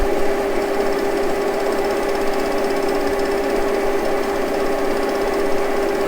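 A machine in a Harley Davidson machine shop runs at 980 RPM: a loud, steady mechanical drone with a constant pitched tone and fine rhythmic rattle, unchanging throughout with no voices.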